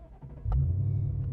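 A Ford Mustang Dark Horse with a 5.0 Coyote V8 starts up: a brief cranking whine, then the engine catches into a deep, loud, rumbling idle heard close up.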